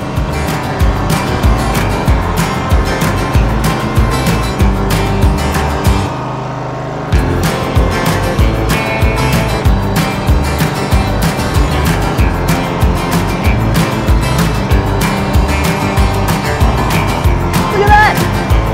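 A toddler's toy ride-on lawn mower with a garbage truck combo drives around with a steady, loud, buzzy motor drone and rapid clicking and rattling throughout, which cuts out briefly once before resuming.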